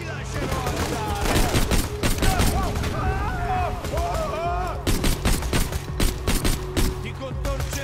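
Rapid bursts of gunfire in the video game Borderlands 2, a dense run of sharp shots and automatic volleys with synthetic effects sweeping between them, loud and continuous.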